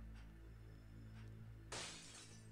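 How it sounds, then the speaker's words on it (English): Glass shatters suddenly in the horror game Seven Mysteries: The Last Page, a sharp bright crash bursting out over a low ambient drone and ringing briefly before dying away. "He heard glass breaking."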